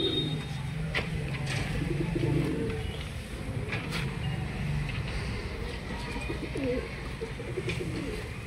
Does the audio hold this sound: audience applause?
no